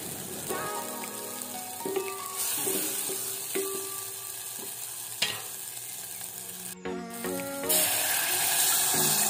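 Spices roast in hot oil in a pan for Maharashtrian kadhi, giving a moderate, steady sizzle with intermittent stirring clinks and scrapes, louder toward the end, with no talking.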